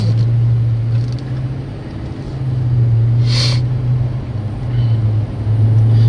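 A Mercedes CLK63 AMG idles with a steady, deep rumble that swells and eases slightly, joined by a brief higher swish partway through, with no talking.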